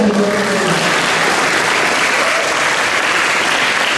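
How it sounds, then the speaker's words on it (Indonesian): An audience of teachers and students at a school library competition opening claps together in loud, dense, unbroken applause that holds at a steady level for the whole stretch. "Oh, tepuk tangan dulu"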